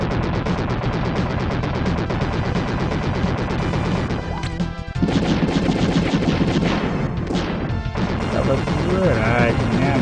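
Bomb explosions and rapid gunfire from the video game Wild Guns burst loudly and almost continuously, with crashing blasts and a short lull midway, mixed with game music.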